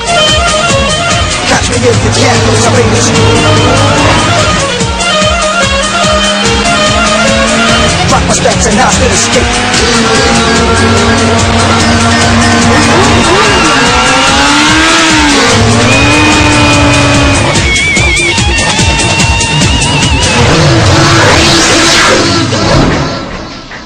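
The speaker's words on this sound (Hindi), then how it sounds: "सड़कों पर दौड़ती बाइक," Motorcycle riding along a road in Raipur, built as an air-powered bike and also running on petrol: loud, continuous engine and road noise throughout, with shifting revs and passing traffic, fading out at the end.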